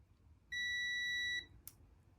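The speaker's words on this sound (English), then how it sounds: "It gives you this beeping noise, and that's how you know that you have continuity." A multimeter continuity test gives a single steady electronic beep, high and clear, lasting just under a second, followed by a brief click in an otherwise quiet room.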